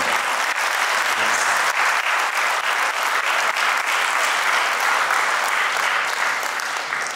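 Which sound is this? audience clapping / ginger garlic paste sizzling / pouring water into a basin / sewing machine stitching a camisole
audience clapping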